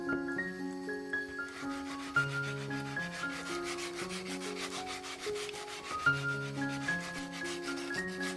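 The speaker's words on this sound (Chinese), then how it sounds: "我开始用了80目的砂纸，为了让表面更加平整，之后还用了200目和800目的砂纸" A terrazzo bookend is sanded by hand with coarse to fine sandpaper, a rapid repetitive rubbing heard close up under soft background music.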